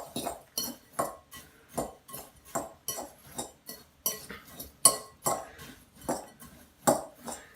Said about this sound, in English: You mix your breading up.